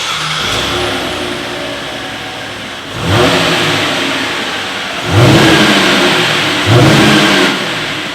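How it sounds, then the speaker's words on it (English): A 2017 Chevrolet Impala V6 revs through dual stainless steel exhaust outlets, idling low, then surging in three sharp blips that swell and fall back, loud and close with no talking. "So as always, here is that exhaust clip."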